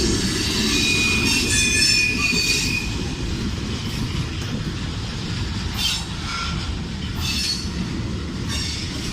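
CSX M453, a manifest freight train from Jacksonville toward Miami, rolls past close and loud. A steady rumble runs under high, sustained wheel squeal and intermittent clanking.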